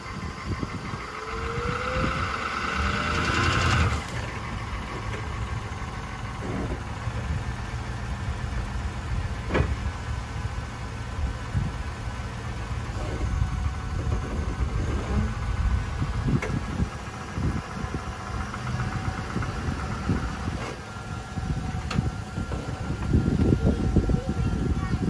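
Chevrolet Suburban engine strains and drones steadily off-road while trying to climb over a log, a low rumbling revving held for the whole stretch with a louder surge near the start and again toward the end.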